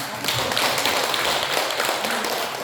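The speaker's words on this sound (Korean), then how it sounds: "박수 좀 칩시다" An audience claps together in a dense, steady patter at a commemorative ceremony, fairly loud and sustained for a few seconds without talk.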